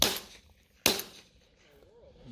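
A shotgun fires steel shot during an outdoor skeet shoot. Two sharp, moderately distant reports land about a second apart, each trailing off quickly, followed by a faint voice.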